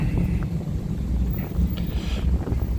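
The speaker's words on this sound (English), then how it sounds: "It's too windy." Wind blows outdoors on a Las Vegas night, a constant rough roar buffeting the microphone with gusty swells and no clear speech.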